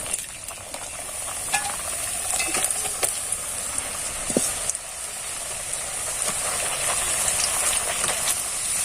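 Potato slices fry in hot white oil in a wok, a bright continuous sizzle with scattered pops and clicks and occasional stirring scrapes, steady and close, with no voices.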